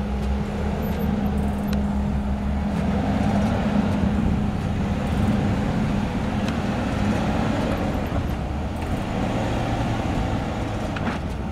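A Range Rover's supercharged 5-liter V8 drones steadily off-road in a low, loud, continuous rumble, with the revs held high rather than rising and falling.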